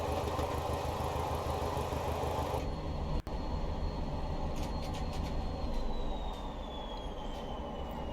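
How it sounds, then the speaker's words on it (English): A Class 205 diesel multiple unit in Train Simulator runs over points at about 40 mph, giving a steady, loud rumble of engine and wheels with a sharp click partway through and a squealing tone near the end. "So that 40 mph section there must be where we are going over points."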